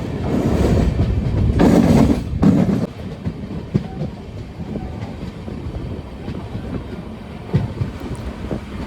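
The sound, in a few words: train arriving at Aluva railway station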